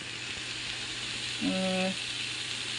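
Mustard seeds, curry leaves, beans and spinach fry in a pan, giving a steady soft sizzle throughout, with a brief tonal hum rising just past the middle.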